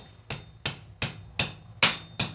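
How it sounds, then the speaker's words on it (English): Hammer blows on hot metal at a forge, six sharp ringing strikes at a steady, roughly even pace, close and loud with no talk between them. "now hammer straight in like this"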